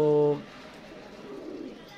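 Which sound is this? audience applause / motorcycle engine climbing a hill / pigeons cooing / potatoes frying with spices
pigeons cooing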